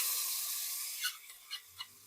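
Mint paste (thogayal) dropped into a hot pan gives a soft, steady hiss that fades, followed by a few faint clicks or taps near the end; quiet and close.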